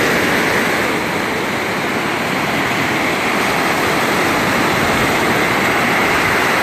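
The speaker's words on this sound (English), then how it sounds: "the waves are great, huh?" Ocean surf rolling in on Florida's west coast on a cloudy day, a loud, steady broadband wash of breaking waves filling the whole stretch with no talk.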